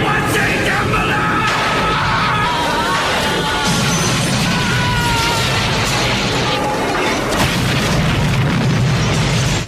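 Explosion in a horror movie scene after lightning strikes a toy store, a loud sustained rumbling blast with crashing debris and booming layered over roaring noise throughout.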